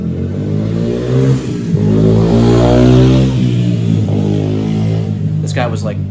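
A motorcycle rides past through a residential neighborhood, its engine revving loudly as it nears, holding a strong throaty drone, then easing off as it moves away, with a voice faintly in the background.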